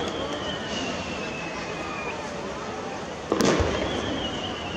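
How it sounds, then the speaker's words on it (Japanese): Weeping willow fireworks burst over a constant crowd hubbub at the Nagashima fireworks display, with a long whistling trail fading before a sharp loud pop and crackle near the end. "今度はしだれ柳でございます。 文字通り垂れ下がる花火です。"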